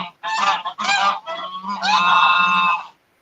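Geese honk loudly and nearby in a quick series of four or five nasal calls, the last one long and drawn out before stopping abruptly, with no talking.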